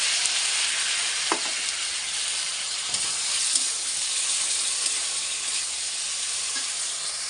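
Blended tomato sizzling in a pan with ginger and cumin paste, a steady loud hiss of frying throughout, with a few faint stirring clinks and scrapes.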